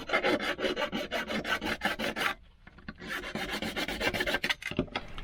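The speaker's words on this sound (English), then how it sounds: "I refined the cuts in more details with the small metal file." A small metal file rasping at cut holes in a recycled Bluetooth speaker casing, fast repeated scraping strokes in a steady rhythm, close and loud, broken by one brief pause before the filing resumes.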